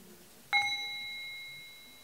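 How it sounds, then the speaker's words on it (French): A meditation bell is struck once, lightly for a half-sound, ringing with a clear, pure tone that slowly fades, quiet and alone. "Je vais réveiller la cloche"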